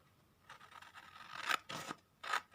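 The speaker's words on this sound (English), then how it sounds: "I'm going to cut this out." Scissors snip through paper while cutting out a printed faux stamp shape for a junk journal, a few close, crisp cuts in quick succession with short pauses between them, no talking.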